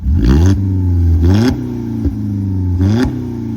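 A 2014 Ford Focus engine with a muffler delete and a Cherry Bomb muffler on some pipe revs up sharply three times, each rev a loud rising blat that drops back to a steady idle rumble close by.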